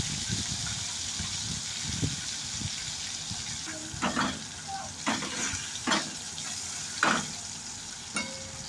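Crushed garlic cloves frying in hilsa fish oil in a pan before the fish heads go in, a soft steady sizzle broken by several sharp stirring scrapes and clatters in the second half.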